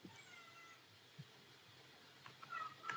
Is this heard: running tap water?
no